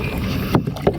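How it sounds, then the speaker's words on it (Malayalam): A small boat being rowed across a water-lily lake, with two distinct paddle strokes splashing and dripping about a third of a second apart over a soft background of moving water and light wind. "അവിടെ ഒരാൾ തുഴഞ്ഞുകൊണ്ടിരിക്കുക."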